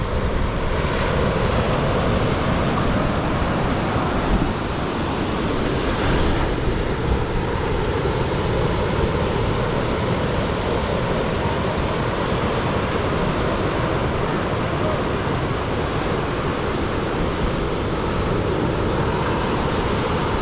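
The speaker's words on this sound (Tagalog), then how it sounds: "Yan ang alon na malalaki" Continuous roar of ocean surf, large waves crashing and rushing steadily, with wind buffeting the microphone throughout.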